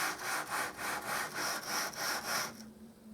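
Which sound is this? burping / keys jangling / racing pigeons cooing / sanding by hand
sanding by hand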